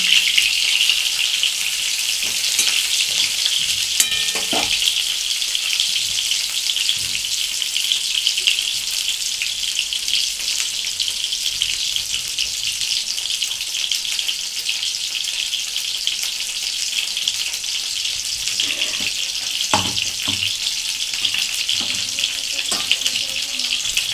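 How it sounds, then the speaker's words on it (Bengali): Pointed gourd frying in a pan and being stirred, a continuous bright sizzle with occasional scraping and knocking from the stirring, close and steady throughout. "পটলটা একটু নেড়ে দিলাম।"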